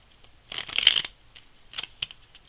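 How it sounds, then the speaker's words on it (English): Tarot cards riffled in one quick burst of crisp shuffling, followed by a few soft, brief card taps and slides, close and alone without any voice. "I'm going to get one more shuffle in"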